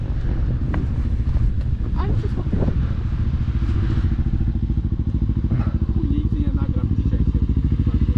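A Suzuki LTZ 400 quad's engine revs loud and close, a throaty continuous drone with wind buffeting the microphone and voices talking over it.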